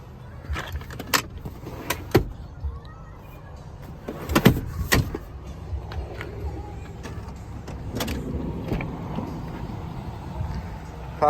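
Power windows of a 2011 Honda Odyssey EX-L minivan run in short motor whirs, broken up by sharp clicks and thumps of switches and doors inside the quiet cabin.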